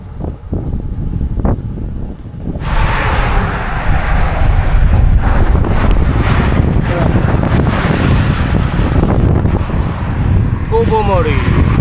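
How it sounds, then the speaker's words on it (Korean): Strong wind buffets the microphone while cycling along the shoulder of Highway 6 in Canada, a loud, steady roar that rises sharply after a quieter start and persists; a person speaks briefly over it. "와, 나 바람 매섭네."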